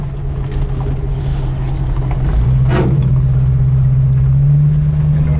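A 1965 Ford Mustang coupe rolls through deep gravel, a loud low engine drone with a humming tone that rises as it pulls ahead, gravel crunch mixed in and a short rushing burst partway through.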